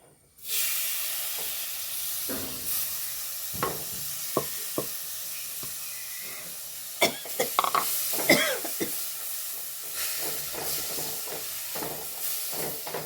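Chopped tomatoes hit a hot pan and sizzle steadily, a continuous close frying hiss broken by occasional sharp clinks and scrapes of stirring.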